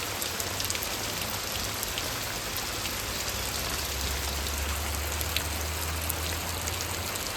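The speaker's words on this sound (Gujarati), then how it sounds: "ધોધમાર વરસાદ ચાલુ છે" Steady heavy unseasonal rain pours down in a village near Botad, Gujarat, without pause, a dense continuous hiss of drops drumming on surfaces, with a low rumble underneath.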